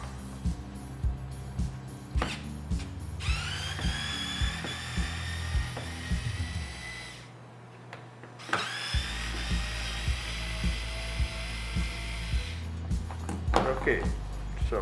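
A small screwdriver works at the screws of a DVM810 digital multimeter case, making rhythmic ratcheting clicks up close, with a rising whirring tone and a brief pause midway.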